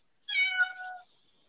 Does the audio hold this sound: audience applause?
no